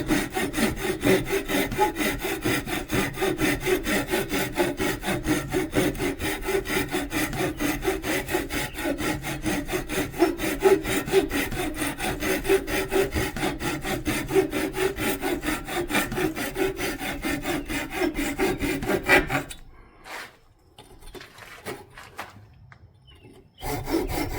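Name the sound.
cut-off saw cutting a wooden piece off the lathe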